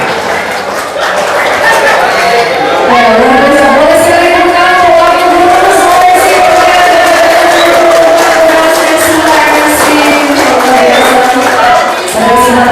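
Crowd noise with cheering and voices at an evening installation ceremony of a car rental association in Southeast Sulawesi, Indonesia; a loud, steady roar of many people under tonal shouting, continuing throughout.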